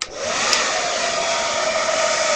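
A hair dryer blowing warm air onto hair during styling, a steady close whooshing roar running unbroken from start to finish.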